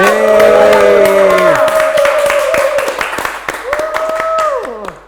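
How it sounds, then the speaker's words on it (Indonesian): Podcast audience clapping to welcome a guest, scattered sharp claps under sustained musical tones and voices, trailing off toward the end. "Boleh kita berikan tepuk tangan untuk Om Bang."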